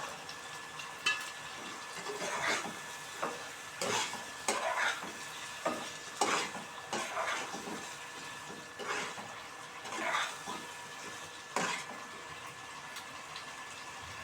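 Green peas stirred into a pan of oil-released spice masala, a spoon scraping and clinking against the pan in irregular strokes over a soft sizzle of frying.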